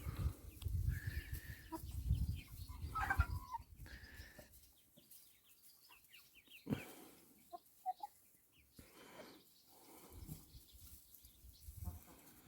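Young chicks and chickens clucking softly nearby in short irregular bursts, with scattered rustling and quiet pauses between.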